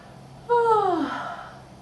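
A single drawn-out yawn from a nearby person, rising then trailing off over about a second, with quiet background otherwise.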